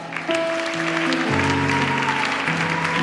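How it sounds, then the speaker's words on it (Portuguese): Applause breaks out during a church worship service, steady clapping that fills the room over sustained keyboard and music chords, continuing throughout. "Dá uma salva de palmas bem forte para Jesus"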